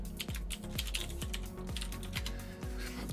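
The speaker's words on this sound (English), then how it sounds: "I'm going to type in my server's IP address" Rapid keystrokes on a computer keyboard as a server IP address is typed, a steady run of close, crisp clicks with no talking.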